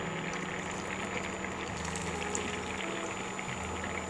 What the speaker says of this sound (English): I'm just showing you how to fry a couple of pieces.